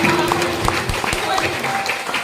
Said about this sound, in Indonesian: Mari tepuk tangan kuat.